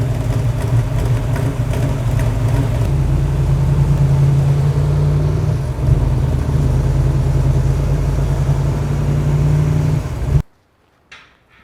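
A junkyard 6.4 HEMI V8 installed in a car runs loud and steady at a close idle, its heavy low rumble filling about ten seconds before it cuts off abruptly into near silence.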